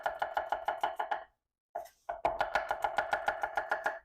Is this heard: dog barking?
no